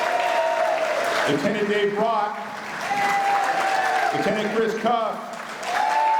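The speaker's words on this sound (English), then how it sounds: "We need to give them a little bit of applause just to cheer them up" Audience applause for police command staff at a State of the City event, a steady wash of clapping from a crowd running under a voice announcing names over a loudspeaker.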